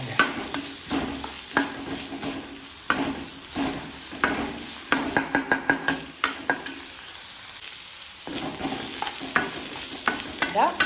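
Onions sautéing in oil hiss steadily as a utensil scrapes the pan in rhythmic strokes, with quick repeated stirring in the middle. The sound is close and loud, and no voices are heard.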